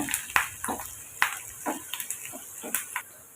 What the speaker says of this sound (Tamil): இப்போ ரெண்டு நிமிஷம் நல்லா வெங்காயத்தை வதக்கி விட்டு எடுத்துக்கோங்க